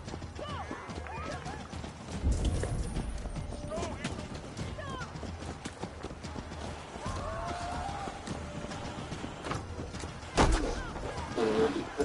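Horse hooves clip-clop steadily in Assassin's Creed Valhalla, a rhythmic trot under ongoing voices, with a couple of louder thuds and a brief whinny-like sound late on.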